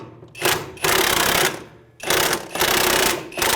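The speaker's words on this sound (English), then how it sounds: "we're actually going to switch over to an impact." A pneumatic impact wrench with a 24mm socket hammers loose an outer tie rod nut on a 2015-2019 Hyundai Sonata, in two loud, close rattling bursts with a short pause between them.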